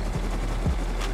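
Automated turrets firing in the survival game Rust during a base raid: a couple of distant dull shot thumps over a constant low rumble, no voices.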